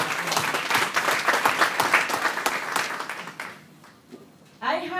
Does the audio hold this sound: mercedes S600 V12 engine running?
no